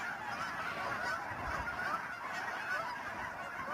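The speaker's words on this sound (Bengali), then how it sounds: "বেশিরভাগই কানাডিয়ান গুস।" Migratory Canada geese on a Texas lake in winter honk as a dense, steady flock, many overlapping calls blending into a continuous chorus without any talking.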